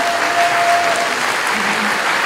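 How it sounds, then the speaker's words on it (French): Loud, sustained clapping from a large crowd at the closing of a summer university, dense and continuous throughout. "je vois que vous avez le cœur à applaudir"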